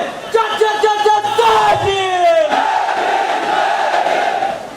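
Large crowd at a Meghwal community rally in Sirohi shouting a slogan together in repeated rhythmic bursts, voices swelling into a long sustained cheer that carries on loud and dense to the end.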